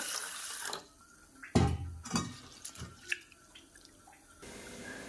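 Water runs from a tap in bursts, splashing and swishing as split moong lentils are rinsed and stirred by hand, with quiet pauses between.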